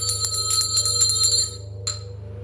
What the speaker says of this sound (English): Yeah, a bell rang